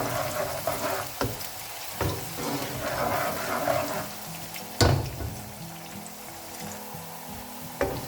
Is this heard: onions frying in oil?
yes